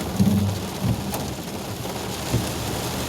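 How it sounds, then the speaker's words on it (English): Heavy rain pours steadily during a drive through a torrential summer storm, a dense continuous hiss with a few low thumps and rumbles beneath it. "it is still raining, and I mean rain. It is pouring a storm."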